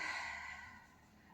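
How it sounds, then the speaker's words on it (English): One slow, deep inhaled breath from a person during a breathing exercise, soft and close, fading gently before a faint rise at the end. "Breathe in"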